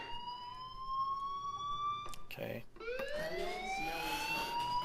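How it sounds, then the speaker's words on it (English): An electronic fire alarm wails in the video game Life Is Strange, a steady rising-and-falling siren tone that cuts off briefly and resumes, with a short spoken word over it. "Do you hear that fire alarm?"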